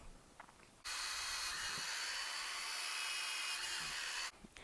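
A drill whirs steadily for about three and a half seconds as it bores into plastic, starting and stopping abruptly, with quiet background before and after.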